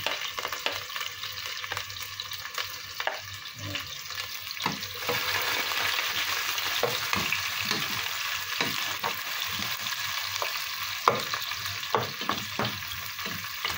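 Garlic sizzles in a pan over high heat, a continuous crackling fry punctuated by scraping stirs and occasional clinks, close and fairly loud.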